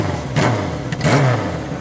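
A deep, throaty Kawasaki Z650 motorcycle engine idles nearby and is blipped twice, rising in two short, loud revs.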